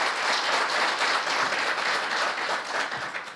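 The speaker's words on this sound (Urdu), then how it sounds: "آپ کے لیے بہت بہت تالیاں" An audience at a Pakistani public gathering applauds a singer's performance with dense, steady clapping that holds at full strength for a few seconds before easing slightly at the end.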